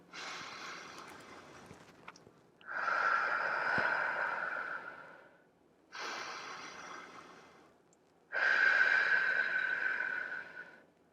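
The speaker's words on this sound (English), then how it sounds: "I'm just going to do like 3 or 4 in and out breaths." Four deep, slow breaths close to the ear, alternating long inhales and exhales, each a broad airy rush lasting a couple of seconds with short quiet gaps between.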